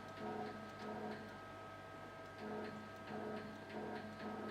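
A Chinese 6012 CNC router with servo motors jogs its axis in tiny pendant-controlled steps, giving faint, quiet ticking and short whirring bursts that repeat in a loose rhythm over a low background hum.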